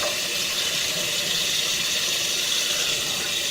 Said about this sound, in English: They're going to run water through here and try and flush the camera lens a little bit.